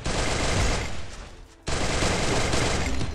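Video game gunfire in a Free Fire style squad match, a dense continuous burst of rapid automatic shots that briefly thins out near the middle before resuming at full loudness.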